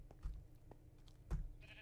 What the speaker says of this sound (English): Sheep, stop scaring me.